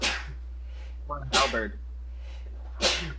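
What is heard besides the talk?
sneeze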